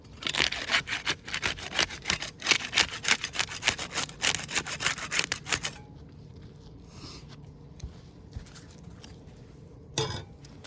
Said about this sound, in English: We'll use a putty knife to unseal the top row.